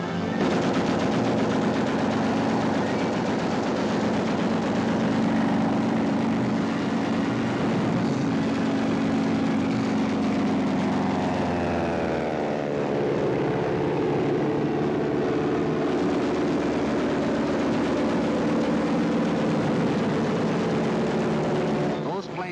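Luftwaffe warplanes fly over Poland during the 1939 Nazi invasion, heard in a 1943 wartime documentary soundtrack. Propeller engines drone continuously, mixed with bursts of rapid machine-gun fire under a narrating voice.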